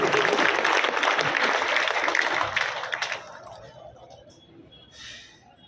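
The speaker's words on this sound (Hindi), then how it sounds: "आज ताली इनके लिए बजाएंगे।" A seated audience at a Gita Bhavan religious gathering claps loudly and densely for about three seconds, then the applause thins into scattered claps and fades as a voice starts up.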